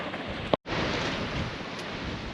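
Strong gusting wind on the coast at Ogmore Deeps during a sea fishing session, a loud, rushing roar buffeting the microphone with a brief sharp dropout before the blast resumes.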